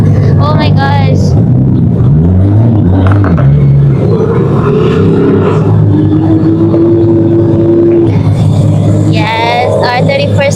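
A Nissan R34 GTR V-Spec and other cars race along a freeway, their engines rumbling and revving steadily close by while people talk excitedly over the noise.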